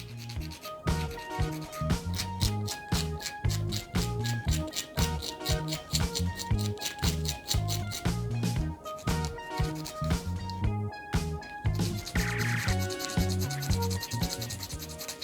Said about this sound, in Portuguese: vamos lixar agora o da direita